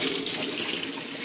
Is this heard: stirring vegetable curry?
no